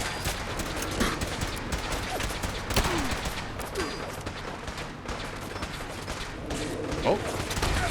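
Gunfire in the Fallout 4 video game, a rapid volley of shots with mechanical clatter heard over busy game sounds, fairly loud and irregular across the whole stretch.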